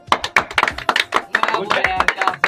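A small group clapping in quick bursts during a Punjabi film-guessing quiz game, the claps close and lively, mixed with chatter and voices throughout.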